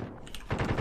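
Automatic rifle fire (an EM-2 assault rifle) in Call of Duty: Warzone, a short burst of rapid shots in the second half after a quieter lead-in, loud and close with no talk.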